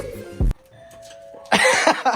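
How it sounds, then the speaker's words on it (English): A house doorbell gives a short ring, then after a quiet stretch holding a faint sustained tone, a louder burst of chime and clatter follows, close and clear. "I got a doorbell"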